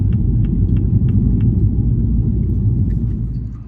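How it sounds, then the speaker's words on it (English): A Mini Cooper JCW's exhaust rumbles deep and loud from close by, a steady low drone with a few faint ticks early on, fading slightly at the end, with no talk over it. "that exhaust sound, because I'm not used to any kind of noise whatsoever, this sounds bloody amazing to me"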